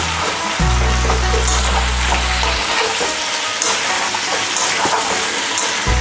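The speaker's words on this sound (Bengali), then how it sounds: "চিকেনটা ভালোভাবে ভাজা হয়ে গেছে।" Chicken fries in a hot pan with a loud, steady sizzle and occasional scraping of stirring, close and continuous, with a low hum fading out early on.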